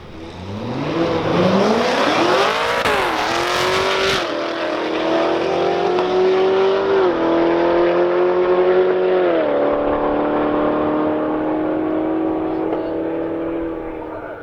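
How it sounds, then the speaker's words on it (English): Corvettes in a street match race roar as they accelerate hard together, loud sustained engine noise climbing through gear changes with rising pitch sweeps, close and dominant throughout. "What happens to this Corvette match race right now?"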